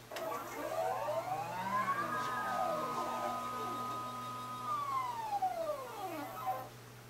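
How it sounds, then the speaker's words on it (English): Motion control rig motors drive a camera dolly, focus and zoom, giving a faint rising whine that holds steady, then falls away as the motors stop at different times, with a low steady hum underneath. "And right now the different motors are arriving at different times."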